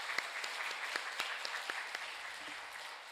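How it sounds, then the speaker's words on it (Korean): A church congregation claps after the choir's hymn, heard faint and distant, with a handful of sharper individual claps standing out over the soft patter. "다시 한번 박수로 하나님께 영광 올리겠습니다."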